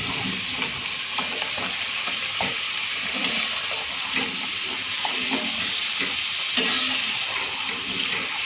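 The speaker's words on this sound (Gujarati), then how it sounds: "આપણે એને ધીમા તાપે જ થવા દેવાની છે, જેથી કરીને અંદરથી પણ સારી રીતે એકદમ ફ્રાય થઈ જાય" Cornflour-dusted peri peri French fries sizzle steadily in hot oil over a low flame, a constant close crackling hiss with occasional soft stirring clicks.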